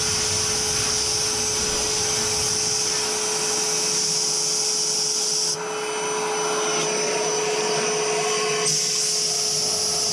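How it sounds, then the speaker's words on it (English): Vacuum cleaner running continuously beside a Bradford natural gas water heater while its filter is cleaned, a loud close steady whine with a slight shift in tone partway through. "running the vacuum in there at the same time to help eliminate the dust overflow"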